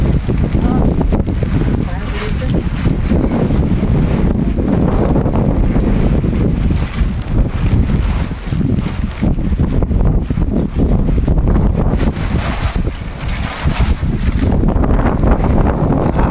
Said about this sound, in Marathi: प्रचंड वारा आहे.